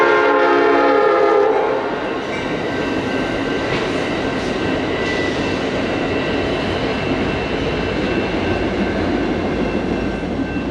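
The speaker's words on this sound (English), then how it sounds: "It's probably another Amtrak though. Sounds like an Amtrak." A loud Amtrak train horn sounds at the start and fades as the passenger train rushes past, wheels and cars roaring steadily afterward, along the Carquinez Strait.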